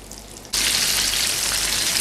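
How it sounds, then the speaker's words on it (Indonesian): Vegetable spring rolls drop into hot oil and burst into a loud, broad sizzle half a second in, frying steadily and close with no talk over it. "Ini minyak panas udah gua siapin ya. Langsung gua goreng aja ya"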